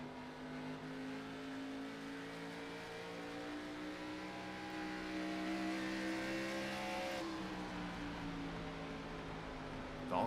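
A sim racing stock car engine at Iowa in a Grand National Series race drones steadily and close, dipping slightly as the throttle rolls off and then rising again as it rolls back on.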